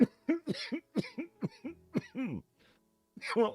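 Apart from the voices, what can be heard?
cough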